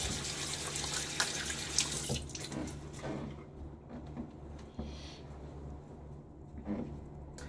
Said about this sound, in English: Just going to rinse out what's in my hand off.